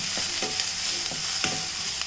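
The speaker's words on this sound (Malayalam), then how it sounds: "കുറച്ചുകൂടി ഒന്ന് വഴണ്ട് വരട്ടെ കേട്ടോ" Vegetables sauté in a hot pan with a steady soft sizzle, while a spoon stirs and scrapes against the pan in a few light, evenly spaced strokes.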